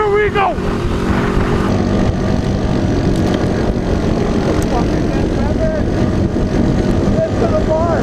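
Honda Foreman 500 ATV engines race at high revs, holding a loud close roar with pitch changes as gears shift, while riders shout over the noise.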